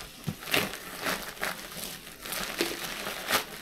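Plastic packaging on a parcel crinkling and rustling as it is opened by hand without scissors, in a quick series of close, crisp crackles.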